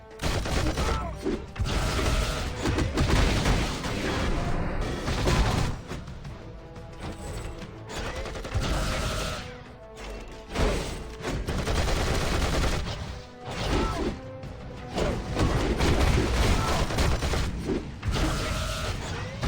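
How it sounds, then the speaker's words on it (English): Dense, continuous gunfire and explosive bursts from a turret in the mobile action game Marvel Future Fight, loud and sustained with rapid repeated shots layered over game music and effects. "See how you just stand in that turret?"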